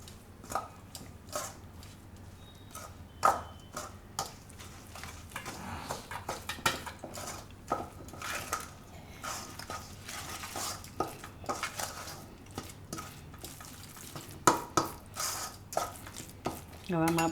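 Gram flour is mixed into a potato and aubergine stuffing in a pot, heard as a quiet series of scraping, clinking spoon strokes against the vessel in an irregular rhythm, with faint background murmur.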